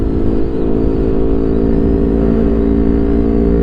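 A Yamaha MT25 250 cc two-cylinder motorcycle engine runs with a steady, loud, close-up drone that holds an even pitch and level throughout, with no talk over it.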